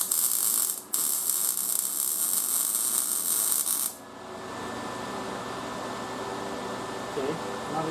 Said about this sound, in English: We'll put the last little bit of weld in it.